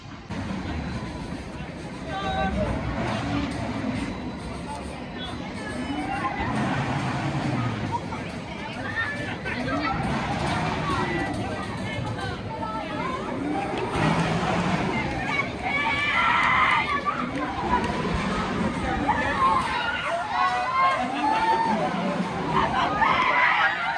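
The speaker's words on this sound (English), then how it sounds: "now it's time for a ride on the park's pirate ship, Shiver Me Timbers" Riders aboard the Shiver Me Timbers swinging pirate ship at Pleasurewood Hills amusement park, with crowd chatter, scattered screams and rushing air rising and falling as the boat swings back and forth.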